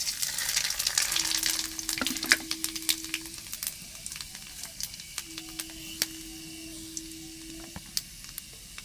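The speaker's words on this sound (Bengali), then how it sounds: "একই তেলের মধ্যে তেজপাতা, ফোড়ন, জিরে," Bay leaf, cumin and garam masala frying in hot oil, a quiet continuous sizzle with scattered crackles and pops throughout, a faint tonal whine heard twice, no voices.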